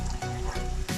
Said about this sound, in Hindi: साथ ही प्याज पकना स्टार्ट हो गया।